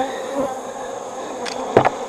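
Honey bees buzz around an open hive during a warm-weather inspection, a steady hum with a couple of louder passes close by near the end.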